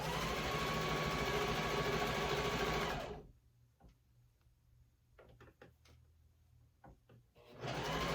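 A sewing machine stitches embroidery with a loud steady whir for about three seconds, then stops abruptly, leaving faint handling clicks and taps before the motor starts up again near the end.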